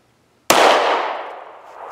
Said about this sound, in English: going to take a couple shots without anything on the gun